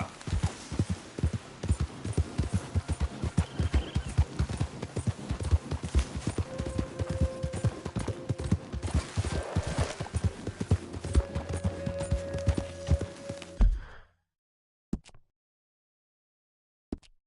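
Horse hooves clip-clop steadily at a walk in Red Dead Redemption 2, close and rhythmic for about fourteen seconds before stopping abruptly, leaving near silence with a couple of faint thumps.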